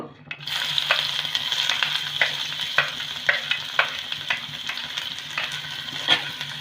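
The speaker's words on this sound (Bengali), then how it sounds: "তেলটা গরম হয়ে গেছে এবার আমি এখানে একটা মিডিয়াম সাইজের পেঁয়াজকে ছোট ছোট করে কেটে নিয়েছি পেঁয়াজটা দেব" Finely chopped medium onion sizzles steadily in hot mustard oil, a continuous bright frying hiss punctuated by regular scraping stirs of a spatula, close and fairly loud.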